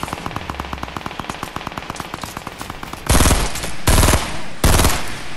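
Rapid automatic gunfire from the video game Fortnite, a steady stream of loud close shots for about three seconds, then three heavier, louder bursts of fire with short gaps between them.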